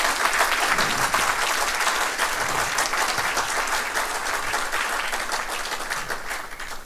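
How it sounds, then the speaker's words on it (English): A large convocation audience at a university campus in Dubai gives a long, dense round of applause that stays steady and full, then eases slightly toward the end. "A very huge round of applause to the leadership of this nation"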